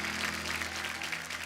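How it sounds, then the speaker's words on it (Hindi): Studio audience applause welcoming an actress onto a Hindi television comedy talk show stage, a steady wash of clapping held at an even level for the whole stretch over a low musical hum. "तो आप सबकी जोरदार तालियों के बीच में स्वागत करना चाहूंगा श्रेया धन्वंतरी।"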